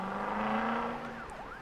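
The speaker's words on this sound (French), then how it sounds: "Il monte dans l'ambulance et l'ambulance roule si vite que très vite..." An ambulance siren sound effect rises and falls in a wavering wail over a steady engine-like drone, moderately loud and alone.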